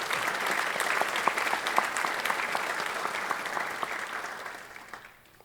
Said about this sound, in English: one more round of applause for the Greensboro Fire Department